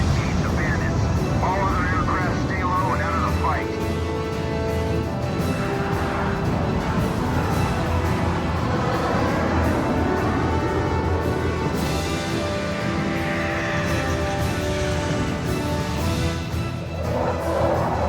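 Jet fighter engines roar in the Ace Combat 5 video game, a loud continuous rumbling whoosh with shifting tones as aircraft maneuver, under steady radio-style talk throughout.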